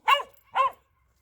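A farm dog gives two short, sharp barks about half a second apart, close and clear, followed by silence.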